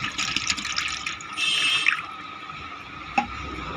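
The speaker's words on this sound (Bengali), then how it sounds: "দুধটাকে পাতিলে ঢেলে নেব।" Half a litre of milk poured into a cooking pot, a soft liquid splash and trickle with a few faint drips, quiet and close.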